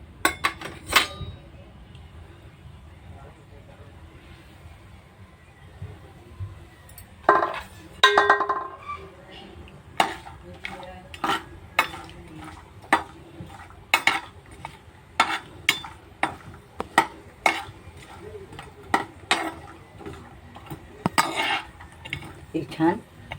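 Cardamom and other whole spices frying in hot oil in a kadhai while being stirred, giving a low sizzle under repeated sharp clinks and scrapes of a spoon against the pan.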